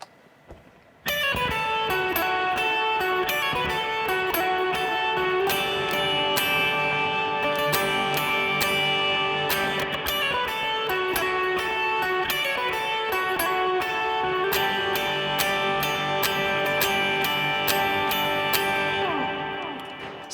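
Electric guitar run through effects plays the song's turnaround, a steady, full-bodied repeating line with ringing sustained notes that holds loud and continuous from the first second to the end, with no voices.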